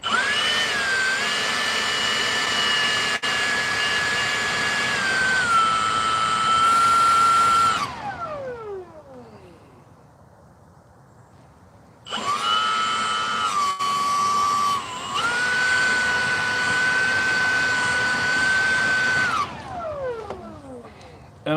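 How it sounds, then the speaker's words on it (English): A Milwaukee leaf blower runs loud and close with a high whine, winds down to near silence, then starts up again for another long steady blast before spinning down once more. "I use my Milwaukee blower"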